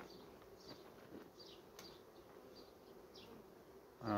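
A low steady hum of many honeybees buzzing nearby in a hive, continuous and soft, with a brief louder sound at the very end.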